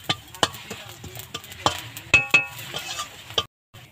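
Whole coriander seeds and cumin sizzle in hot oil with sharp scrapes and clinks of a utensil against the pan, close and fairly loud, ending in a brief silence.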